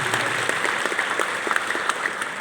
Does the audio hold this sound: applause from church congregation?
yes